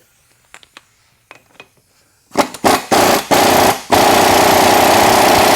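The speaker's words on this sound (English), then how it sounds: "Sometimes them electric impacts are just too quiet." Electric impact wrench removing a transfer case yoke, starting after a few light clicks and knocks with several short loud hammering bursts, then one sustained loud rattling run, close up and without talk.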